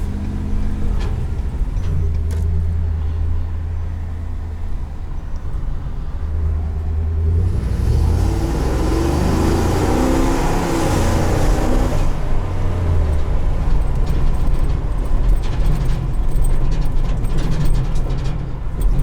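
A 2021 Ford F-550 Super Duty truck with the 7.3L engine, heard from inside while driving: a steady, deep rumble under road noise, swelling louder midway as it accelerates, then settling back into a low cruising drone.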